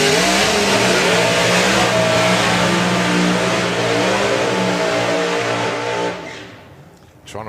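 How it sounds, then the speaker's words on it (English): Drag racing cars doing burnouts at a drag strip, a sustained, loud, close engine roar with dense rasping revs that holds steady, then tails off sharply near the end. "Trying to outdo each other on the burnouts this time."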